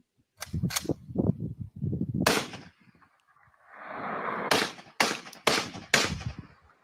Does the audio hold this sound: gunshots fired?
yes